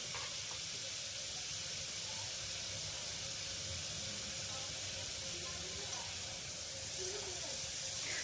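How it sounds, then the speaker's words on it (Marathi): Paneer pieces frying in a pan for palak paneer give a steady hiss and sizzle that holds at an even level throughout, with no talking. "आता आपलं पनीर छान फ्राय होत आहे।"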